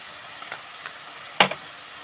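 Cumin paste hits a pan of simmering fish curry made with small chuno fish and green tomato, giving a few soft sizzling pops and one sharper splutter against a quiet, steady hiss.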